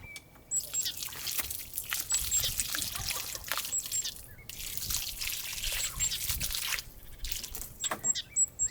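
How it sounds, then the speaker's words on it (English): Water trickles and splashes steadily onto newly planted tomato and garden plants from a hose or can, a soft continuous pour with faint brief pauses and no talking. "Now all I have to do is water them and keep watering them regularly."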